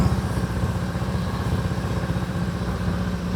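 A smoking 1999 Harley-Davidson Road King engine runs at a steady, close, throbbing idle with a rough, even pulse throughout and no talk.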